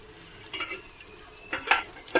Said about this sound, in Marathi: पण मी छान प्रकारे ना परतून घेणार